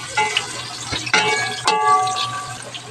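Sliced onions hit hot cooking oil in a pan for squid adobo, giving a steady close sizzle with a few sharper crackles and bursts, and no voices.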